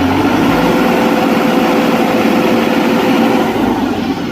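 A Massey Ferguson 9563 tractor with a 65 hp CRDI diesel engine runs steadily, a loud, close, continuous low rumble with no talk over it.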